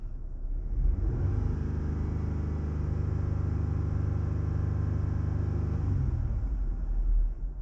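A Jeep Gladiator engine revs up and holds a steady, loud drone around 3,000 rpm for several seconds, a continuous low rumble with no talking, then drops back off near the end.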